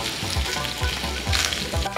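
Red eel sizzles loudly on a hot teppanyaki iron griddle in a Putien restaurant kitchen, a dense continuous fry with rhythmic scraping or pressing strokes roughly every half second, close up and without voices.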